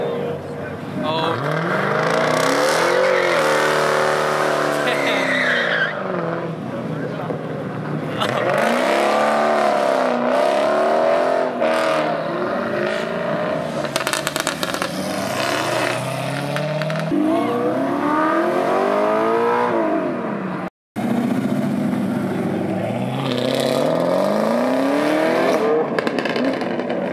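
A car does burnouts at a busy car meet, engine revving hard in repeated rising and falling bursts with squealing tires, close and loud, while people talk nearby.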